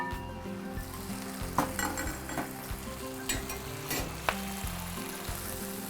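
Blanched green beans with chili pepper and roasted garlic warm in a pan, giving a soft steady sizzle with light stirring clinks and scrapes, close and fairly quiet.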